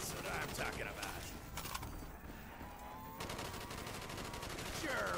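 Rapid-fire gun shooting in a video game, a continuous rattling stream of shots at fairly low level with brief breaks, heard without speech.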